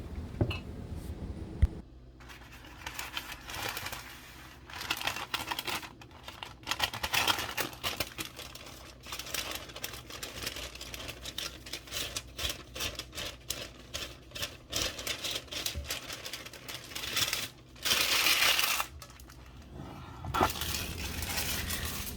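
Shredded butter being tossed through flour in a bowl for buttermilk biscuits, giving soft, busy rustling and scraping, fairly faint and close, with irregular bursts and brief pauses.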